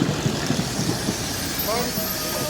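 A Sentinel steam waggon pulling away at the Appleford steam rally and working up through its gears, with a few rhythmic chuffs at first that then settle into a steady mechanical rumble as someone talks over it.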